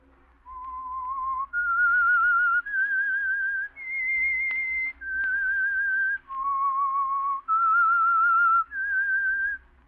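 A clear, solo whistled melody, the theme of the radio program The Whistler, of sustained notes that step up and down in pitch, with short pauses between phrases.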